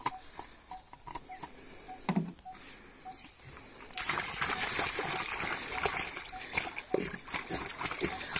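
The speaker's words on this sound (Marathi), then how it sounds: "चल आता टँक आहे पूर्ण भरून घेता" Water pours and splashes into a homemade plastic-lined lotus tank, with a continuous gush that grows louder midway and talking under it.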